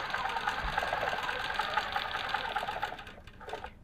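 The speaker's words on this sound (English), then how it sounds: "So we'll stitch in the ditch, come back up and do the same thing, stitch in the ditch." A sewing machine stitches in the ditch along the seams of a quilt block during free-motion quilting, making a steady, close, rapid whirring hum with fine rhythmic needle chatter that slows near the end.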